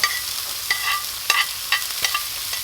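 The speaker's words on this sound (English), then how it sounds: "And I'll chuck in this pancetta." Pancetta sizzling in a frying pan, a bright steady crackle broken by several sharp stirring clicks and pops, close up with no voices.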